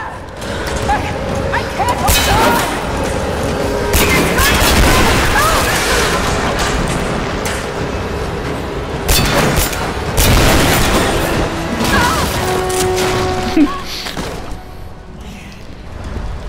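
Gunfire and heavy booms in the Rise of the Tomb Raider video game, set in a cathedral courtyard: repeated loud blasts and shots in an ongoing firefight over a dense, constant game soundscape, with occasional voices.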